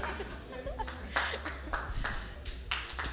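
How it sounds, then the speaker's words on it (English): Audience at a Kaduna meet-up clapping for a prize winner, several distinct claps in an uneven rhythm over a low hum, with light chatter and chuckles mixed in. "Please clap for him."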